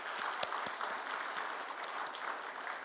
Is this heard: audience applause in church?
yes